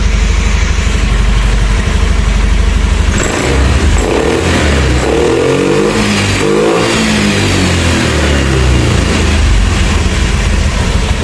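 A Honda Beat ESP scooter with a fault that makes it sputter under light throttle, refuse to rev and start poorly runs loudly and close, with an uneven rise in revs partway through and no talking.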